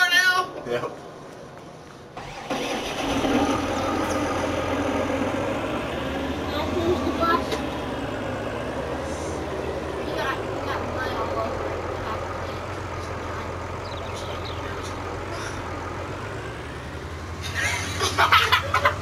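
A tractor engine drones in the Farming Simulator 19 farming game, a steady mid-level rumble with shifting pitch as it drives, running under frequent talk and laughter.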